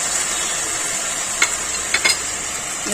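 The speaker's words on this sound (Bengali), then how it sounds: "ভালো করে একটু কষাবো এটাকে" Boiled taro leaves seasoned with salt and turmeric sautéing in a pan: a steady close sizzle runs throughout, broken by a few short scrapes of stirring, with no one talking.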